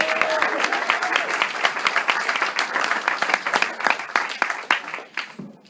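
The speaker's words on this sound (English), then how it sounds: "pause and renew the applause" An audience applauds at the launch event for the sixth season of the Downton Abbey TV series, with sustained loud clapping from a large crowd and a brief voice under it at the start, gradually thinning toward the end.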